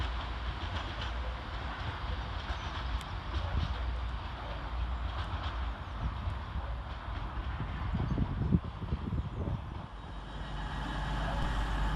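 Northern Rail unit 195131 pulls out of Chester station on the far platform, a low, steady diesel rumble and rolling wheel noise that holds throughout with a brief swell of clatter near the end.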